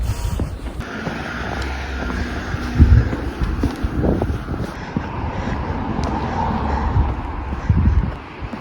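Wind blowing outdoors in Japan near a bus stop on a mild day, a steady broadband rush with low rumbling gusts that swell and fade over the whole stretch, with passing street noise in the background.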